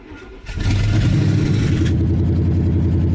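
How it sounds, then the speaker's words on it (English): A car engine turns over and catches, then settles into a steady, rumbling idle, loud and close with no talking. "I'll fire it up here."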